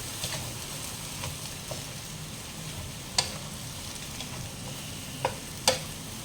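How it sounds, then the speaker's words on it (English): Egg noodles frying in a pan with salt, a continuous soft sizzle with occasional sharp scrapes and taps of stirring, close and fairly quiet, no voices. "So I'm going to fry this a while with the salt."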